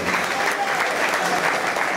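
Crowd applause at a tribute concert in San Martín, Meta, a steady, dense wash of many hands clapping at even loudness throughout, with no break.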